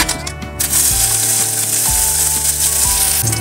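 Garlic fries in a spoonful of hot oil in a heated kadhai, or wok, for a vegetable soup. A loud, continuous bright sizzle runs throughout, with faint tonal and clanking undertones and no speech.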